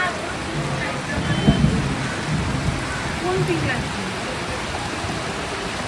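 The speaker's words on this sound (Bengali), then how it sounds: "অসময়ে বৃষ্টি কি বা ভালো জোরে বৃষ্টি নিয়ে গেল" Heavy rain pours steadily and loud, with a low rumble of thunder partway through; faint voices sit under the downpour.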